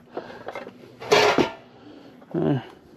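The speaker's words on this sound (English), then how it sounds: "Pots, pans, and a toaster." Pots and pans clank and rattle as they are handled in a storage unit with no power, in short bursts of metallic clatter with quiet gaps between them, close and moderately loud.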